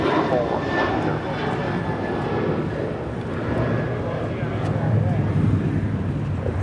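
A jet airliner takes off from runway 25 right at LAX, a continuous loud engine roar filling the scene. Air traffic control radio chatter runs over the top of it.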